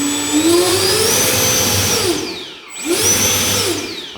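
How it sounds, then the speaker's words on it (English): Electric motor of an E-flite Air Tractor 1.5m RC plane, rebuilt after a crash, whining up and down through two spool cycles, loud and close with a rising-and-falling pitch and a brief dip between. "And of course, spool the engine."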